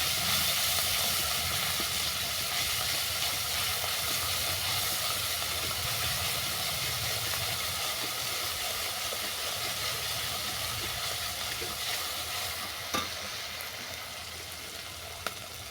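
Spice masala with salt and turmeric fries in a pan for an egg curry, giving a steady, close sizzling hiss that runs unbroken and slowly eases toward the end.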